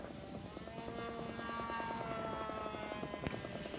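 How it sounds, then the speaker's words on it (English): A giant scale PT-19 model airplane's engine runs steadily at an outdoor scale flying meet, a loud continuous droning buzz with strong engine harmonics that holds an even pitch throughout. "a giant scale PT-19 is fired up for flight"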